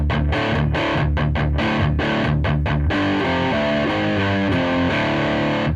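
Heavily distorted electric guitar in drop D tuning plays a chugging palm-muted riff with open-string hits, loud and up close, tight rhythmic stabs giving way to a sustained run of fretted notes, no voices.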